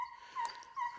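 A hunting dog whimpers faintly during a hare hunt, giving two short high-pitched whines in quick succession, distant and soft.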